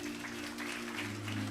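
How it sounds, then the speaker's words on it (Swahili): Church congregation clapping during a Nairobi service, a dense steady wash of applause filling the whole moment, with a sustained low musical hum underneath. "Wapigieni makofi wanaposimama."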